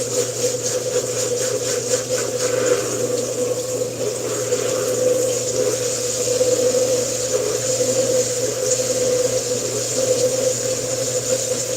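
Kief is rinsed under running water, a loud continuous rush with a steady low hum beneath it, close and unbroken, no talking.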